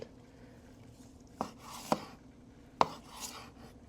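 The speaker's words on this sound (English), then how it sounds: "Thin slices against the grain." A knife cuts thin slices across the grain of a grilled medium-rare tri-tip steak on a board, making three distinct close knocks with soft scraping between them; no talking.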